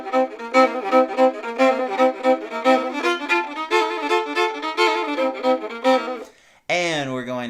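A fiddle plays the melody variation of a boogie woogie tune as a bouncy run of bowed notes, close and unaccompanied. A short pause follows, then a single held note with a wavering slide.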